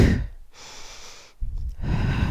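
Sharp breaths during a Pilates roll-up: a quick inhale, a long steady exhale, then another audible gasping breath, close and clear with no talking.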